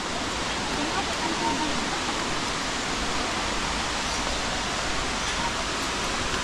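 Tinago Falls waterfall in Iligan City, a steady, dense roar of falling water that holds an unbroken broadband rush at an even level throughout, close and loud.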